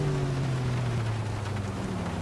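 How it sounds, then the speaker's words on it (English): Steady rain hiss in Grand Theft Auto IV, with a low droning hum underneath, continuous and even throughout, no voices. "The rain sounds really nice, not gonna lie."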